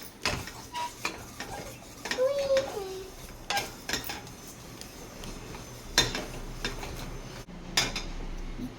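A spoon stirs coriander seeds and cumin together in a dish: steady scraping and clinking of metal against the bowl, with scattered sharper taps, fairly close and alone.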